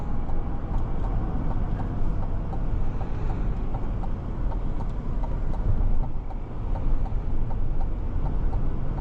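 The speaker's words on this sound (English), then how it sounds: "Engine sounds really good. Typical Escalade engine sound right there." A 2025 Cadillac Escalade Sport Platinum's engine runs steadily during a test drive, a continuous low rumble with road noise filling the cabin at even loudness throughout.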